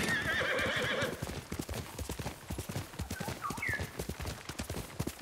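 A horse in Ghost of Tsushima gallops with rapid, rhythmic clip-clop hoofbeats, a brief neigh at the start, and a faint swooping tone midway, fairly quiet overall.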